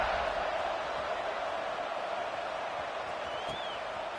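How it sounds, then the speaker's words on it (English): A stadium crowd at a college football game keeps up a steady, distant buzzing roar, continuous and even throughout with no distinct cheers standing out. "this crowd is buzzing after that last score"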